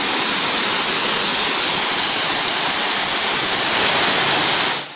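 A coin-operated car wash spray wand blasts a loud, steady, close hissing spray that cuts off abruptly just before the end.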